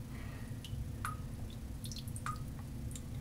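Water dripping and plopping from a wet olive wood shaving brush after being shaken out, a few separate drops over a steady low background hum.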